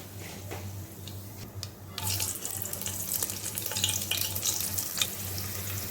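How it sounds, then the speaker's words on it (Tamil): Cinnamon and cloves fry in ghee for a mutton biryani, giving a low, soft sizzle with a few light clinks. A steady hum runs underneath, and the sizzle grows a bit louder partway through. "இப்போ தேவையான அளவுக்கு பட்டை கிராம்பு போட்டுக்கிறாங்க"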